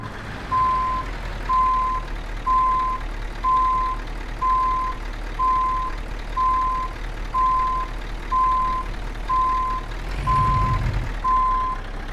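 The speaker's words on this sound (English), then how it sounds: "So many beeping noises going on." Steady, evenly spaced truck reversing beeps from Euro Truck Simulator 2 repeat about once per second over a low engine drone, loud and close, with a brief thump near the end.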